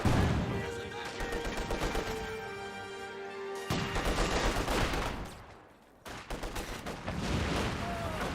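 Battle gunfire in the World War II strategy game Company of Heroes 2: dense, continuous volleys of rifle and machine-gun fire with heavy crashes and impacts, briefly dipping before the shooting resumes loudly.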